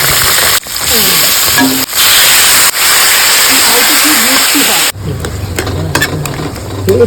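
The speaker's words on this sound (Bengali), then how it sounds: "ছোলা গুলা ভালো করে ধুইয়া তেলের মধ্যে দিয়ে দিলাম" Soaked chickpeas with ginger and green chilli hit hot oil in a loud, hissing sizzle. Stirring noises and a talking voice run through it before the frying settles into a quieter, steadier crackle.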